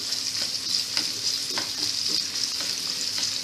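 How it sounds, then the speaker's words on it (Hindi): Finely chopped onions fry in hot oil with a loud, continuous sizzle while a spoon stirs them, scraping and clinking against the pan every half second or so, with no voices. "अब इसमें हम अपनी जो प्याज है जो हमने बारीक काट के रखा था उसे डालेंगे"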